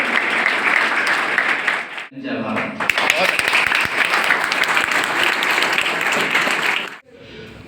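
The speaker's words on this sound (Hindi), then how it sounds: "सभी बच्चे जोरदार तालियां बजाएंगे।" Schoolchildren applaud loudly and continuously, briefly broken by a short spoken exclamation before the clapping resumes until it stops abruptly.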